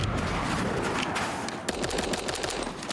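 Rapid gunfire in the Super Animal Royale video game, bursts of sharp repeated shots crackling over a busy background, loud and close, growing more distinct in the second half.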